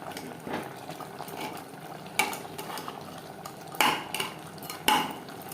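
Mutton and garlic are stirred in a pan over high flame. A spoon scrapes and clinks against the metal several times over a soft background sizzle.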